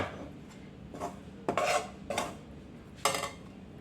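A utensil stirring crispy chegodi rice flour dough in a pot makes several separate scraping clanks against the metal, spaced irregularly and fairly faint, with no talking.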